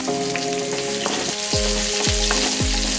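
Dried chillies and onion fry in hot oil with mustard seeds for Kerala mango mappas, making a loud, close, continuous sizzle with a few low thuds of stirring and no talk.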